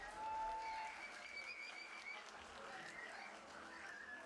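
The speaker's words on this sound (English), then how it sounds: "let's go ahead and give another round of applause" Applause from a graduation ceremony audience at Peralta Colleges' AAPI graduation, a steady, moderately faint wash of clapping that rises early and continues throughout.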